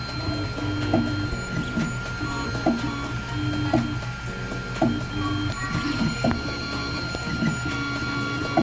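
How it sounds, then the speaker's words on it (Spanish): A 3D printer's extruder motor skips steps under strain while pushing filament, giving a steady rhythmic tac-tac clicking at regular intervals over the printer's constant mechanical hum, close and clear. "es porque el motor se está saltando pasos porque no tiene la fuerza suficiente para empujar el filamento"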